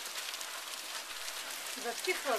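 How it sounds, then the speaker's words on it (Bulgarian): Hail pattering steadily on a surface outdoors during the year's first hailstorm, a dense hiss of small impacts with a few faint voice-like sounds near the end. "Първата градушка за годината."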